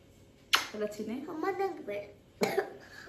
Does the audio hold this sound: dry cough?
yes